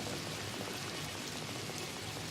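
Steady, dense rain pours down as a continuous wash of hiss and patter, close and unbroken, with no voices.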